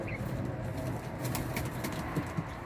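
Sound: Bango Mısırı high-flying pigeons cooing

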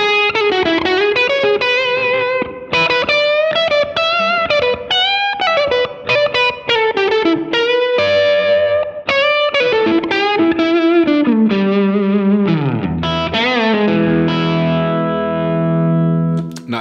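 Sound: Electronic Audio Experiments Longsword distortion pedal, electric guitar

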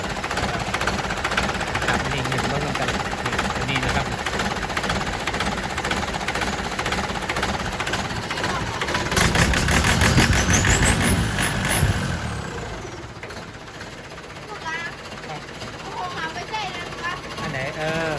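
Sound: stock motorcycle engine idling while adjusting idle screw

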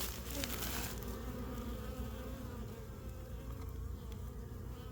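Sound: honeybees buzzing at a beehive entrance

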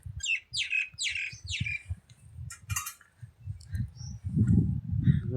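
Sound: birds calling

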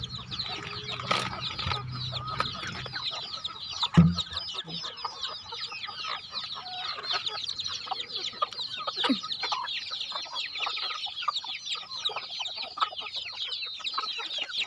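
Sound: chickens clucking

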